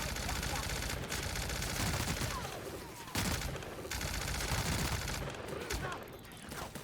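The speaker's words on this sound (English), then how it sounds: "Might as well shoot the dead body to make sure the dead body stays dead." Video game gunfire in The Outer Worlds, a dense sustained burst of rapid shots fired into a dead body, loud and continuous for several seconds with only brief dips.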